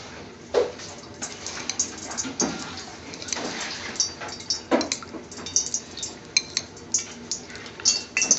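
Metal clinks and light clatters of a non-stick frying pan being handled, intermittent knocks and scrapes scattered throughout, fairly close and moderately quiet.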